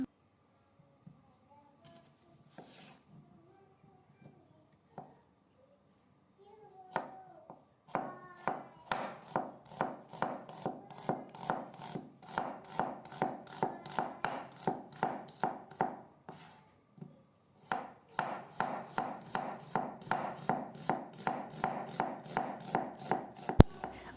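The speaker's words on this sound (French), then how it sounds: "je vais couper l'oignon." A knife chops an onion on a cutting board: a few scattered taps, then rapid steady chopping strokes in two runs separated by a brief pause, close and crisp.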